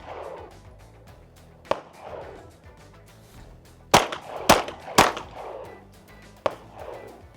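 Sharp gunshots during handgun shooting practice at a range, several distinct cracks spaced irregularly with a quick cluster of three near the middle, loud and close, with no talk over them.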